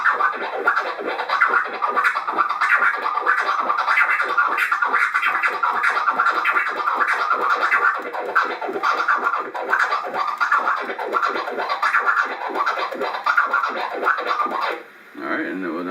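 Fast DJ turntable scratching, a rapid stream of rhythmic scratch strokes, close and loud, continuing without pause and cutting out at the very end.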